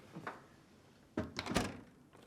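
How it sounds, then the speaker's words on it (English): A Whirlpool, Kenmore or KitchenAid dishwasher's lower rack rolls back in along its tracks and the door shuts, a soft rattle followed by a cluster of close, sharp plastic-and-metal knocks and a clunk, with no talk. "push it back into the dishwasher and close the door."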